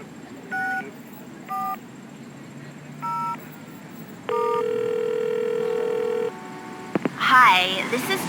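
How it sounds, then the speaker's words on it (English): Telephone dialing in Leisure Suit Larry 1 Reloaded: three short spaced touch-tone beeps, then a long steady tone ending in a few clicks, followed by a brief burst of voice. "Please hang up and dial again."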